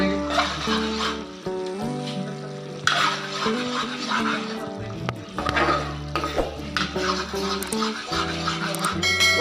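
Chicken with ginger and cream fries in a pan, a loud sizzle broken by repeated stirring scrapes and clanks, with a steady hum underneath.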